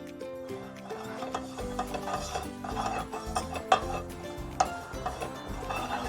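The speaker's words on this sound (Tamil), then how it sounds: "இனி நான் சின்ன சீரகம் வறுக்க போகிறேன்" Cumin seeds dry-roasting in a pan, with a spoon scraping and tapping the metal in light, irregular strokes under steady background music, plus a couple of sharper clinks.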